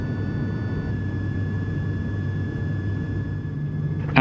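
Steady low-pitched roar of airliner cabin noise during descent into Dublin, a constant engine drone with a faint high whine, unbroken and fairly loud, ending with a brief knock.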